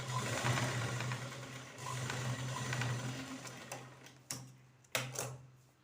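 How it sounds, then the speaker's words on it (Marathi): A sewing machine stitches a katori blouse, its motor running as a steady, fairly close whir for about four seconds, then stopping and restarting in two short bursts, with no voices. "आपला कपडा न सरकता आपल्याला ही शिलाई मारायला सोपं जाणार आहे"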